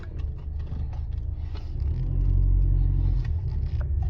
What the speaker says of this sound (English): I'm gonna go ahead and start driving